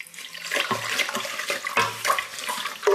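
Water poured slowly from a cup into an agar mixture for vegan marshmallows while it is stirred, a close splashing trickle that comes in short uneven bursts.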